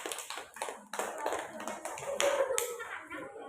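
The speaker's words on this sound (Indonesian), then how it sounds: "Tepuk tangan sekali lagi." Children applauding in a classroom, a brisk scattered round of hand clapping at moderate distance, with voices mingling in the background.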